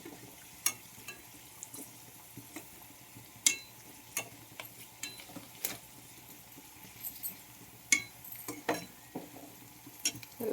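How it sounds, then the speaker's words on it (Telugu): Chicken kurma ingredients (potato, onion, tomato, capsicum and green chilli) fry in a pan with a soft steady sizzle, broken by scattered clicks and scrapes of stirring. "బాగా వేయించుకుందాం ఇది కూడా అన్నమాట"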